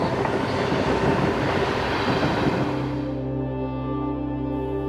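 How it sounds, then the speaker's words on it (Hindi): A Mumbai local train clatters past loudly with a dense rumble and rattle, then slows, leaving a steady droning hum of the stopped train with no voices. "लोकल ट्रेन्स की टकटकाहट,"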